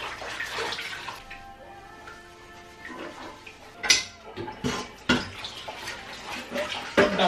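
Running tap water streams steadily while a utensil from Spanish bread baking is rinsed again to clear stuck-on lumps, with a few louder clanks and splashes near the end.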